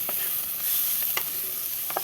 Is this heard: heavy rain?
no